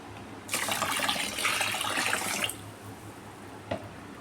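Water pouring into a rice cooker pot while cooking fish roe with potato, a steady splashing stream for about two seconds that then stops, followed by a faint clink.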